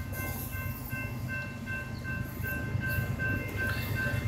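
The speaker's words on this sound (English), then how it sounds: "First train of the day" The first train of the day rolling past, a steady close rumble of wheels and cars with faint high tonal squeals from the rails, moderately loud throughout and without talk.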